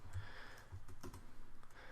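Soft, quick keystrokes on a computer keyboard as a class name and two round braces are entered while building an app, faint clicks in a quiet room.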